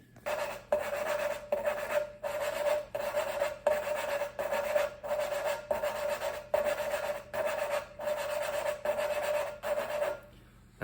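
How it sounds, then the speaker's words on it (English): Engine valve being lapped into its valve seat with grinding compound, a rhythmic gritty rasp repeating about twice per second in steady back-and-forth strokes, close and alone. "you're going to rub back and forth to spin this valve in the valve seat, and that is going to grind a nice edge on both"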